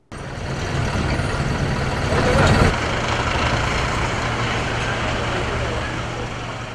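Dense downtown traffic in Paramaribo, a city center crowded with buses, rumbles steadily throughout with a low engine drone and a brief louder swell midway as a heavy vehicle passes close.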